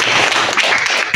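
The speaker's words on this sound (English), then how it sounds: "Give yourselves a round of applause." An audience at an environmental school event claps in a round of applause, a dense, loud, continuous patter of many hands close by, with no talk.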